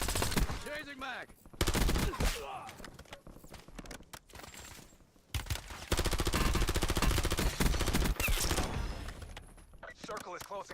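Gunfire in the Warzone video game, with loud bursts of shots and game effects running almost the whole way through, stopping briefly around the middle before resuming.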